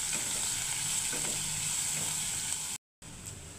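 Dried red chillies frying in hot oil give a steady, close, dense sizzle that runs unbroken, then cuts out briefly near the end before resuming.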